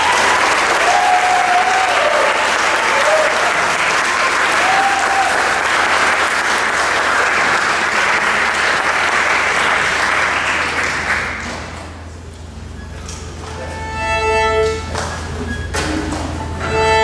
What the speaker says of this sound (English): So can you give a round of applause?